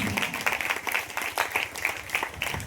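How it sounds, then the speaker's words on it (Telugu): A church congregation at a gospel meeting claps loudly in a fast, even rhythm, a dense burst of many hands filling the room without pause. "బిగ్గరగా చప్పట్లు కొడుతూ ప్రభునామాన్ని"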